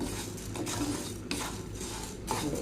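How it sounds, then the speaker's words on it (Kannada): Moong dal fries in a little oil in a pan while a utensil stirs it, producing a few soft scraping strokes over a low sizzle. No one talks. "ಹೆಸರುಬೇಳೆಯನ್ನು ಇವಾಗ ನಾನು ಸ್ವಲ್ಪ ಎಣ್ಣೆ ಹಾಕಿದನ್ನು ಫ್ರೈ ಮಾಡ್ತೇನೆ"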